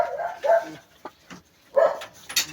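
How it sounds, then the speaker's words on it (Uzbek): Young Alabai (Central Asian Shepherd) puppies at a dog market in Fergana give a few short, close yips and barks in quick, uneven bursts with brief pauses between them. "Alabaychalar kuchuklar ekan hali bular."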